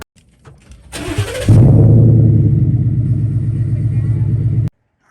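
Ford F-150 truck with an upgraded exhaust starting up, cranking briefly before settling into a loud, deep, steady rumbling idle for several seconds, then cutting off abruptly.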